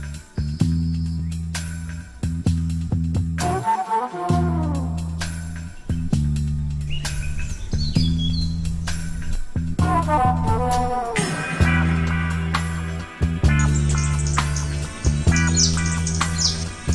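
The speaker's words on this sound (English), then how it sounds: "this is probably the best time to watch the coastal forest birds of Goa." Coastal forest birds in Goa sing at dawn in the hot season before the monsoon, a loud, busy chorus of chirps, whistles and squawks layered over a steady low droning background.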